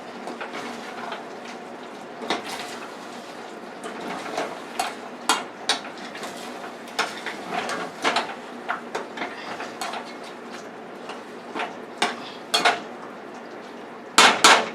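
Onions being mixed into fettuccine pasta in a pan, with repeated clinks and scrapes of a utensil against the pan, irregular and close, louder knocks near the end, no talking.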